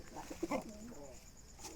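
Jalali pigeons give a few short, soft coos close by in quick succession early on, followed by a quieter stretch of low background noise.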